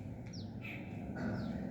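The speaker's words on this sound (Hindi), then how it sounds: "ये अभी चिड़िया बोल रही" Small birds chirp outdoors in the morning, a few faint, short descending calls heard at a distance over low background hum.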